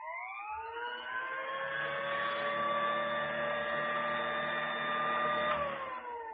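An old-style vacuum sweeper stands in one place, holding a steady, unbroken motor whine with a low hum beneath, faint and constant before winding down slightly at the end.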